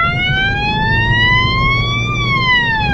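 An emergency vehicle siren, heard from inside the vehicle during an ambulance run, wails in one long, slow rise and fall, loud and steady over low engine and road rumble.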